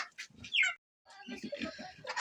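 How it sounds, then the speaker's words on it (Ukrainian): A mother hen with a young chick clucks a few short, close calls, then a pause, followed by a run of soft clucking and murmuring. "Це мама і це ще молоденька курочка."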